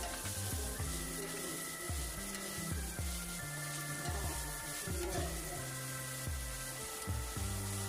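Squid cooking down in a pan with its liquid, giving a steady soft sizzle and bubbling simmer, faint and continuous, with repeated tonal clinks and scrapes from stirring over the top.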